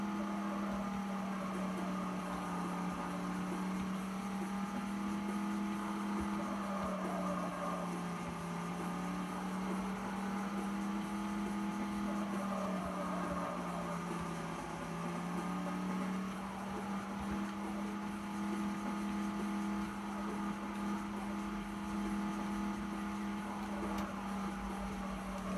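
Steady racing-car engine drone from the Hot Wheels Velocity X video game, a continuous hum with gently wavering pitch holding at an even level throughout, with no talk over it.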